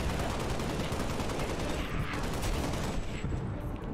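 Dense rapid gunfire blasting a grenade cache in the Halo Spartan Strike video game, a loud continuous fusillade of overlapping shots and explosions filling the whole span.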